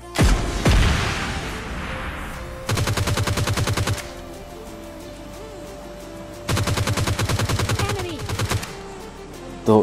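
Two long bursts of G36 assault rifle fire in PUBG Lite, fast, even automatic shots with a faint tone running between them.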